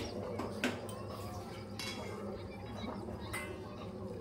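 Plates, pots and cutlery clink and clatter in a home kitchen after snakehead fish in mustard paste comes off the pan, a few sharp chinks scattered over quiet background hum.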